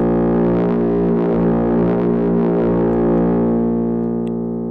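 A sustained Ensoniq ASR-10 sampler tone with a resonant, filter-like sweep shifting its timbre, loud and continuous, fading slightly at the end.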